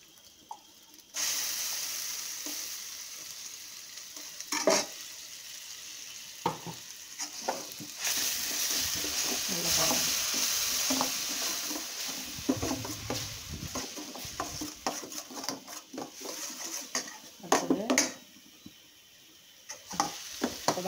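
Onions sizzle steadily in hot oil in a pan for a brinjal curry, a continuous frying hiss with scattered stirring scrapes and spoon clicks close by, with no talking.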